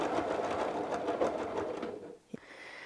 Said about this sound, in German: Wenn wir an diese Einschnitte kommen, quilten wir bis zum Ende der Einschnitte wieder zurück und verfolgen unsere Naht weiter.